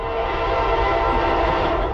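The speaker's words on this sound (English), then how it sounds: "Give me a nice horn show," A loud Norfolk Southern freight train horn blares steadily and close for the whole stretch, layered over the deep rumble of the eastbound train passing.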